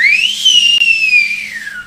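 A person whistling a single clear sustained note that rises, holds and slowly falls, loud and close, with nothing else heard.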